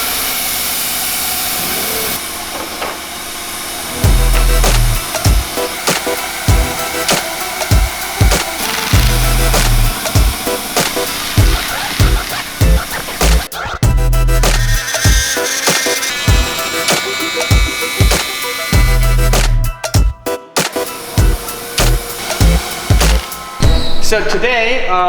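A programmed cutting machine dry-running a fender program with no plastic loaded, its motors whirring loudly with repeated start-stop pulses and sharp bursts over a constant background hum.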